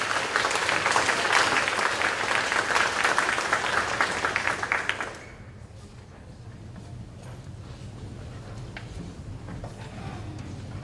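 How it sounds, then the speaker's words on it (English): Audience applause for students at a high school academic awards ceremony, a dense, loud wash of many clapping hands for about five seconds before dropping to a quieter room murmur. "Please give these students a round of applause."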